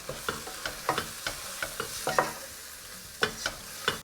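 Spoon stirring ground coriander, garam masala and chaat masala in a pot for chickpea and potato biryani, with a series of soft scraping strokes over a faint sizzle, close by and without talk.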